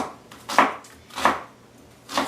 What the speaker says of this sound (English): So I'm just chopping a small to medium,